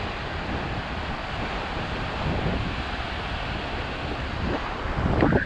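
Strong southeast sea wind roars across the microphone at Praia do Diabo beach, steady broadband rush of surf and gusts with no pauses, building slightly louder toward the end.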